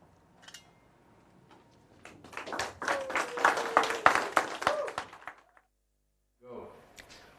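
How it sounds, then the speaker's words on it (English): Audience at a winter storytelling performance at a fantasy festival claps in a short burst that swells and then fades, with scattered single claps before it and a voice after a pause. "All the people cheering and making sounds."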